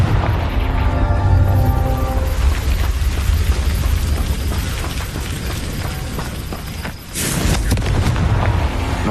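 A Confringo spell detonating in the video game Hogwarts Legacy, a dense rumbling blast under a steady wash of game sound, followed by a sharp burst near the end.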